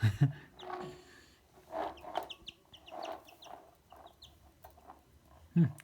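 Soft high peeps from a chick playing beside a hamster in a quiet room, scattered short calls across the span with a few louder thumps and handling sounds, no clear talk over them.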